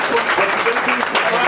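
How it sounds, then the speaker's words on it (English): Applause from the audience at a town public hearing on an affordable housing plan in Ridgefield, a brief, fairly loud wash of many hands clapping, with voices mixed in underneath. "Can you please not applaud?"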